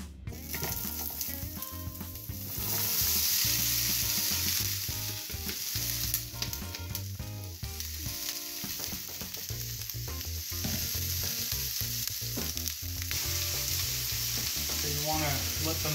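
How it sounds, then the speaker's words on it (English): Peppers and onions sauté in a little oil in a preheated pan for venison chili, a steady close sizzle with occasional stirring scrapes, continuous throughout with no voices. "preheat the pan and put some little bit of oil there so we can saute these vegetables"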